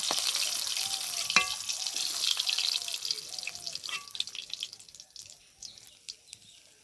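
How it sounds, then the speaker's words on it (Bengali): Fish for a Bengali wedding-style fish kalia frying in hot oil, a steady bright sizzle with occasional sharp clinks and drips, fading slightly toward the end, no voices. "দেখো এই মাছগুলো খুব ভালোভাবে ভেজে নিলাম"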